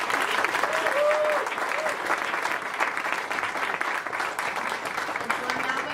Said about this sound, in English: One more round of applause for all three of them.